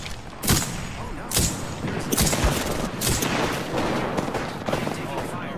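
Gunfire in Apex Legends, a fast run of loud sharp shots with a few heavier booms, close and dense throughout, set over steady game noise.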